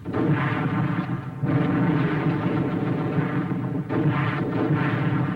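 Mortar fire in a wartime battle scene: a dense, continuous roar of rumbling blasts that stays loud for the whole stretch, with a short dip before it surges again.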